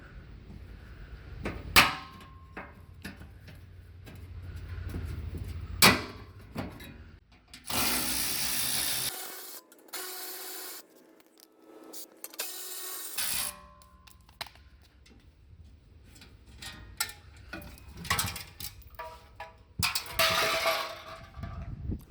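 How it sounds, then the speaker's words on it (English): Screwdriver prying and breaking apart the upper radiator core support on a Nissan 240SX, heard as scattered sharp metallic clicks and cracks, then a dense harsh scraping burst midway, followed by more intermittent knocks and rattles. "We'll grab our screwdriver and we'll go ahead and just break it apart."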